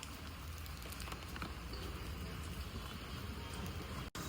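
Heavy rain falling outdoors during a trip to buy a Durga idol for Navratri, a dense, continuous broadband hiss with steady loudness and no talking.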